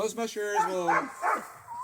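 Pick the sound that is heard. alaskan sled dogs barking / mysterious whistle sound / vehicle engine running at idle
alaskan sled dogs barking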